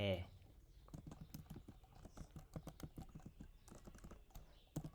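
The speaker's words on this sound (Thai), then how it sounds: "พิมพ์ยังพิมพ์ไม่ถูกเลยนะจะไปถามคอมได้ไงเนาะ" Typing on a computer keyboard: faint, close keystrokes that come irregularly, sometimes in quick runs and sometimes alone, with a low voice murmuring briefly.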